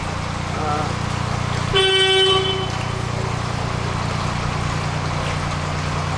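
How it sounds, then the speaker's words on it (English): A single loud, steady narrowboat horn blast on a canal lasting about a second, sounding over a constant low engine rumble. "I'll sound my horn if I can find it."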